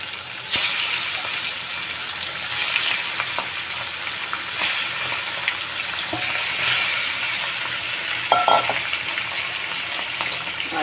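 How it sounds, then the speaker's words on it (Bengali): Tilapia fish frying in hot salted oil, a steady broadband sizzle and crackle running throughout with occasional sharper pops and spatters, fairly close and loud, with no one talking over it. "এখানে আমি মাছগুলো ভেজে নেব।"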